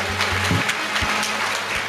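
A crowd at a kirtan applauds steadily, dense overlapping clapping at close range for the full two seconds, with a low hum underneath.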